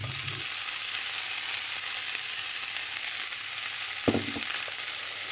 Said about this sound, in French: Je vais faire revenir ça pendant quelques minutes pour qu'il soit vraiment bien revenu